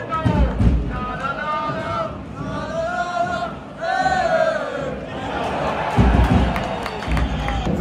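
Pardubice ice hockey fans chant and roar in the packed stands during a semifinal against Litvínov, rhythmic massed voices in unison with thumping beats, loud and close from inside the cheering section.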